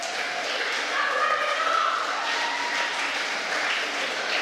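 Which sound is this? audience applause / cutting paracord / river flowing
audience applause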